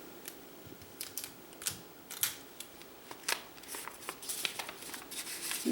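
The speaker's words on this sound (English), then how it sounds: "And I'm going to tape that." A paper headband being fastened with tape: close, quiet crinkling and rustling of paper, with a scattered series of short sticky crackles and taps over several seconds and no talking.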